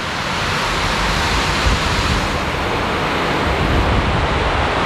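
Heavy rain pours down at a hotel in Cambodia as a dense, constant roaring hiss, loud and unbroken for the whole stretch, with no voices.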